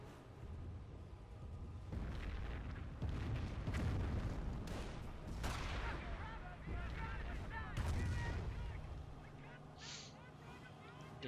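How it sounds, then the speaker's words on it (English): Nebelwerfer rocket barrage in the World War II strategy game Company of Heroes, a dense rumble of launches and explosions rolling on throughout, with a commentator talking over the combat. "Nebelwerfers get blasting away, covering the area here, and could also be setting up for, there we go, barrage there."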